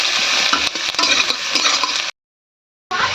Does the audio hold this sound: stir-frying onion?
yes